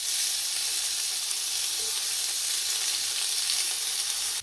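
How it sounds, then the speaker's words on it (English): Halloumi slices sizzling in an oiled griddle pan, heard as a close, loud, continuous bright hiss of frying that holds steady throughout. "Transfer the halloumi to the pan"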